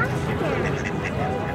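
Ducks quacking in a busy cluster while being fed, a steady dense chatter of calls close by with people talking over it.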